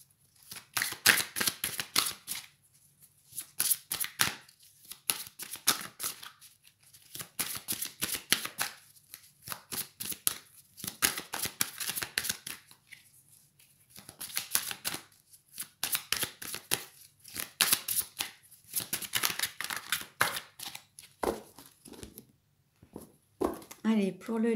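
Tarot cards shuffled by hand in repeated bursts of crisp riffling clicks, separated by short pauses, close and fairly loud; a voice talks between and over some of the bursts.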